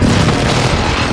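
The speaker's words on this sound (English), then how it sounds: "Hostile mortar strike incoming." A mortar strike in a Call of Duty game hits, a loud, sustained low rumbling boom that fills the whole second without a clear start or end.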